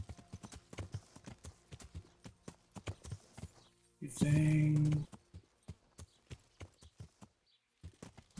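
Steady clip-clop of horse hooves trotting in a video game, with a brief loud whooshing burst midway and a voice speaking briefly.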